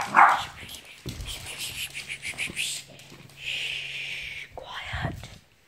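A dog gives a sharp bark at the very start, then a soft voice talks and whispers close by, and a faint whimpering yip follows near the end.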